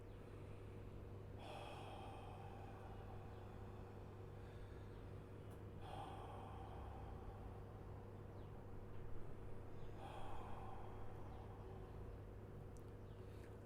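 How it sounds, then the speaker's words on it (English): Three slow, deep breaths taken during a Buddhist meditation teaching session, each a soft, breathy rush spaced several seconds apart and faint against a steady low background hum. "Take 3 deep breaths"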